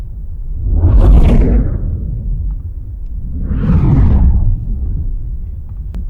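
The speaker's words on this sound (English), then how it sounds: "Just to get some cool like whooshes to begin with." Two synthesized whooshes built from processed white noise, shaped by gain, pitch shifting and filtering, for fire sound design; each swells and fades with a broad rushing sweep, loud and close with no talk.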